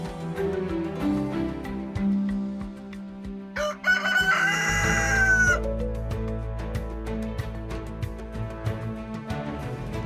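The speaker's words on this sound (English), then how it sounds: "Chickens are a little excited right now because we just had another burst of rain and I think they're laying eggs." Chickens cluck excitedly with a rooster crowing, close and fairly loud over a steady low hum, outdoors by a greenhouse build after a burst of rain.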